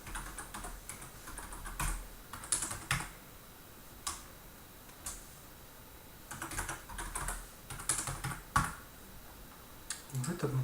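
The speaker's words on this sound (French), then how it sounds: "Donc je tape mon code." Someone types a registration code on a computer keyboard while signing up on an e-learning platform: sparse, close, crisp key clicks in short irregular bursts over a quiet room, with no talking.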